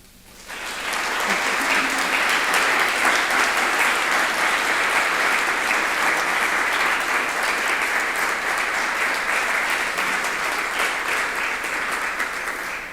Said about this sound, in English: when the applause has died down